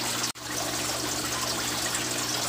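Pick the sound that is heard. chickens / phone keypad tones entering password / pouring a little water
pouring a little water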